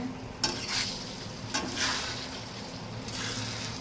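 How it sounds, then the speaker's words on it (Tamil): Salted egg mixture for kothu parotta being stirred in a hot pan, a steady sizzle broken by three scraping stirring strokes close by, no talk. "நல்லா கிளறி விட்டுக்கோங்க"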